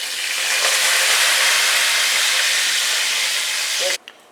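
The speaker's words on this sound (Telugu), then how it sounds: "జీలకర్ర వేస్తున్నానండి కొద్దిగా కరివేపాకు" Cumin seeds and curry leaves hit hot oil for a Nellore-style anchovy fish curry, giving a loud, steady, close sizzling hiss for about four seconds before it cuts off abruptly.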